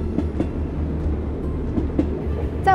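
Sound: train on the Baoji–Chengdu railway

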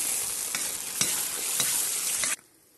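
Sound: stirring cream and egg into a kazan

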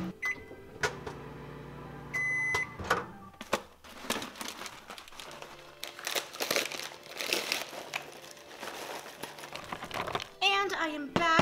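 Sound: microwave oven popping popcorn

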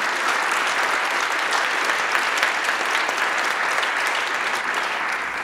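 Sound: audience applause

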